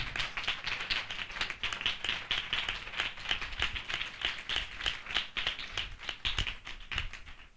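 A congregation at a Hindi-language Christian revival gathering claps loudly and steadily, a dense run of sharp hand claps with quick uneven rhythm that keeps going with no voices over it.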